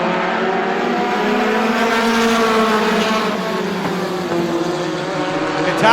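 A pack of NEMA Lite race cars at Star Speedway accelerates on a restart, engines roaring together in a loud, sustained drone that swells as the field powers away.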